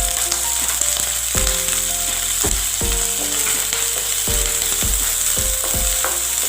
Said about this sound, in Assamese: এয়া তেলখিনি গৰম হৈছে, মই এতিয়া পিঁয়াজখিনি দি দিছোঁ